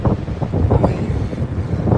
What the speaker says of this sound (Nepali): हावाको यस्तो बहाव यस्तो बढिरहेको छ